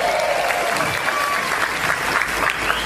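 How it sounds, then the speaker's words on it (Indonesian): A crowd at an Indonesian religious lecture gives sustained applause for the regent, with dense clapping running throughout and faint crowd murmur and a stray voice mixed in. "Tepuk tangan untuk Pak Bupati."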